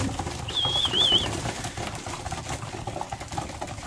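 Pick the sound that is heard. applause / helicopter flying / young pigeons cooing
young pigeons cooing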